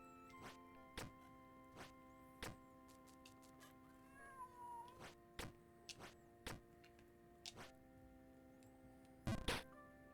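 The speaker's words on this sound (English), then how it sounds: "Cats are acting wild" A house cat named Jelly acts wild somewhere nearby, giving a brief, faint meow amid a series of sharp, irregular taps and thunks over a steady background of sustained tones, with a louder cluster of knocks near the end.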